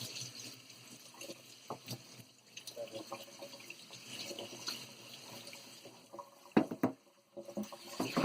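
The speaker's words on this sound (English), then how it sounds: "Rinse all these off, try to get all the dust and dirt and grime off of them." Freshly harvested macadamia nuts being rinsed under running water to wash off dust and grime, a soft steady trickle and splash with occasional louder sloshes and knocks near the end.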